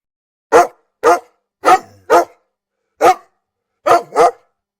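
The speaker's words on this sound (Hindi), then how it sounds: "भेड़िए के मुंह के पास जाकर जोर से भौंका" A dog barks loudly and close by, seven sharp barks in short bursts, a couple coming as quick doubles, with silence between.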